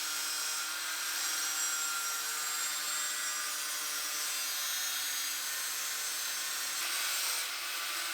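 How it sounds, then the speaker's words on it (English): A small angle grinder cuts a notch into a steel car body frame rail, producing a steady, bright, high-pitched grinding whine that runs continuously throughout with only a slight dip near the end; no talking. "The little grinder's getting a workout today."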